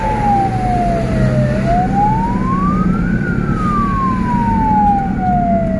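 Ambulance siren wailing up and down in one slow rising and falling sweep at night, loud and continuous over a steady rumble of traffic and engine noise.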